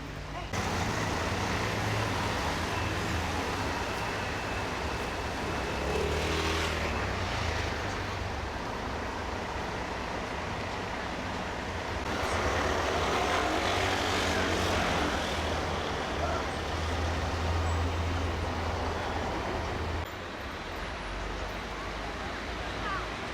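Street traffic fills San Rocco Square in the middle of Corfu town with a continuous rumbling wash of passing vehicles and engine drone, swelling at moments, while someone talks over it.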